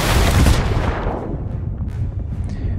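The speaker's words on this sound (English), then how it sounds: "When I use the cannons" Ship cannon firing in the Sea of Thieves pirate video game, one loud close boom at the start that decays into a rumbling tail over a couple of seconds.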